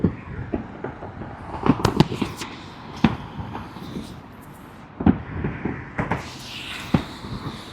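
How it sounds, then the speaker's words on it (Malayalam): Ramadan fireworks burst over Dubai, heard from the Maktoum Bridge area, with irregular distant booms and sharp cracks echoing across the night amid a low city hum. "ദുബായിയുടെ പല ഭാഗത്തു നിന്നും വെടിക്കെട്ട് ഇങ്ങനെ ആസ്വദിക്കുമ്പോഴാണ് ഒരു രസം കേട്ടോ"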